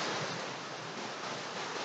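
A river in Colombia's western cordillera rushes steadily beside a farm, a dense, close, continuous roar of water with no voices.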